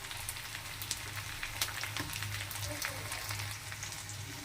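Chopped tomato hits a pan already frying onions and capsicum, giving a steady crackling sizzle with scattered pops over a low hum, fairly close and continuous throughout.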